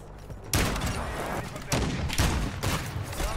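Gunfire in the video game Call of Duty MW2 during a sniping match, with loud sharp shots at irregular intervals over a dense, noisy game backdrop.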